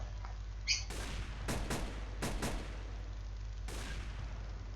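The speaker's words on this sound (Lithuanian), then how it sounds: "Šaudo." Several sharp gunshot bursts in quick succession over a steady low hum in a Counter-Strike-style video game, then a final shot after a pause.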